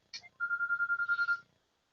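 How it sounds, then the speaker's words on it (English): A phone rings nearby in a quiet room, a short click followed by a single electronic ring tone of rapid even pulses lasting about a second, with no talking. "Phone's ringing."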